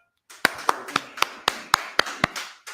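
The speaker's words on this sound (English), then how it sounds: "Let's clap that up." Nine sharp, evenly spaced claps ring out in a quick steady rhythm, crisp and fairly close, like one or a few people clapping in a meeting hall, with no talk over them.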